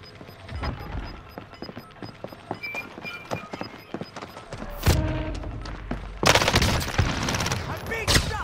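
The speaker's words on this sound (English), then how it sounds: "I'm being shot." Rapid bursts of gunfire in Call of Duty Warzone Rebirth, a loud salvo about five seconds in and heavier sustained fire near the end, over busy game noise and footsteps.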